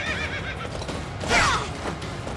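A horse in Fire Emblem: Three Houses, ridden in a small courtyard, gives a single loud, shrill neigh partway through over steady game background noise.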